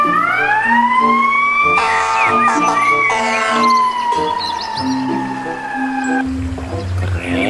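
A toy fire engine siren wails in long rising and falling sweeps, loud and close, with clattering handling noises and a brief squeaky burst toward the end.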